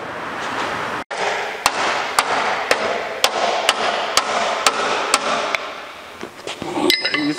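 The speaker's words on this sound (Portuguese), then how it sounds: "Deixa eu pegar um martelo." Hammer blows on a white Fiat Palio's bodywork during repair, about a dozen sharp, evenly spaced metallic strikes up close, followed by a few lighter clatters at the end.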